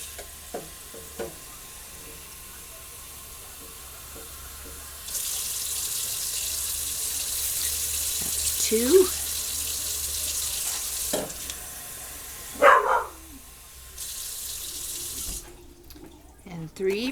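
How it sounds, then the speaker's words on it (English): A kitchen tap runs into a pot to add water for jasmine rice, a steady hiss of pouring lasting several seconds, broken by brief clinks and handling sounds while a voice speaks briefly. "And I'm going to add 3 cups of water."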